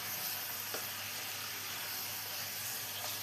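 Small chopped chicken pieces sizzling in masala in a pan, a steady, fairly quiet frying hiss with faint stirring sounds and no voices.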